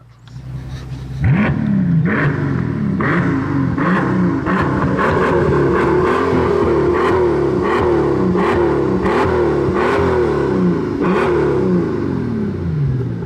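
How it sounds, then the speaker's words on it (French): A Mercedes S65 AMG gives a short burst of acceleration from a standstill to about 10 km/h, its loud engine note rising and falling in quick repeated surges, close by with no talking. "Vas-y, fais une mini accélération là, un 0 à 10"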